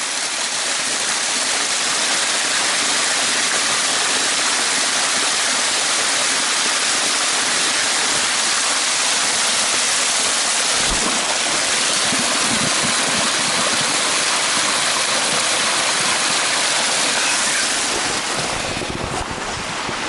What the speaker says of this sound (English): Nice, clean, fresh, thawed glacier melt water of the Rocky Mountains.